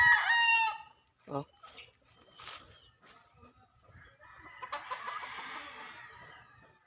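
A Kugon Black rooster in a small backyard chicken coop lets out a loud, close crow, followed by softer clucking and scattered farmyard noise, with a brief spoken exclamation.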